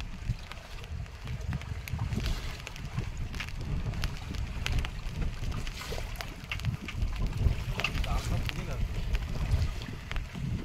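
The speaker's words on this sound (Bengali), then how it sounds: "ছাতা ধরে রাখা যাচ্ছে না, এত ঝড় দিচ্ছে" Strong storm wind buffets a boat on a river in the Sundarbans, a steady loud roaring rush with low rumbling gusts and splashing water throughout, close to the microphone.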